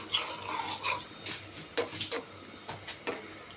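A spoon stirs beef and bottle gourd curry in a cooking pot, giving scattered scraping and clinking strokes over a soft sizzle, close and fairly loud.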